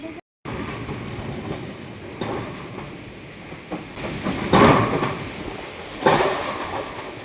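A strong storm wind blows hard around a house, a broad, continuous roar that swells into louder gusts, with clattering debris now and then.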